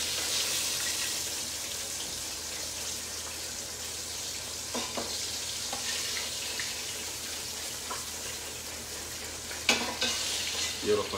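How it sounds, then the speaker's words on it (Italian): Floured fish, mormora, sizzles in hot oil in a frying pan, a loud continuous crackle close by with occasional stirring clinks and faint running water underneath, and nobody speaking. "Io lo faccio proprio friggere un attimino."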